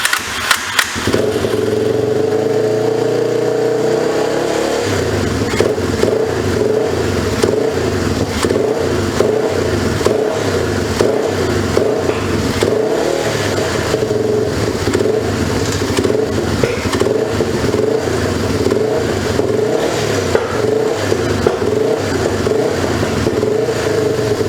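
A 2004 Yamaha TTR 250 dirt bike with a carburetor fault runs loud and close, its engine revving up repeatedly in a steady pulsing rhythm over a rough idle throughout.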